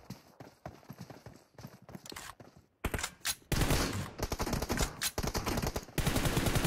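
Gunfire in a shooter video game tournament match, sparse single shots at first, then dense rapid bursts and fusillades that grow loud and near, mixed with clattering hoof-like footfalls.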